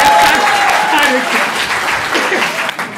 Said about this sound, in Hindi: सभी ताली बजाइए